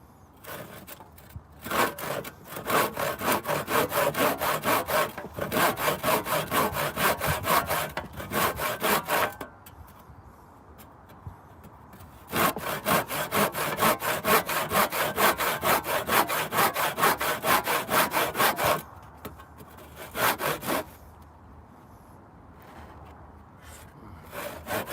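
A handsaw cuts a piece of wood for a raised bed in fast, rhythmic back-and-forth strokes, close and clear, in two long bursts with quiet pauses between and a few short strokes near the end.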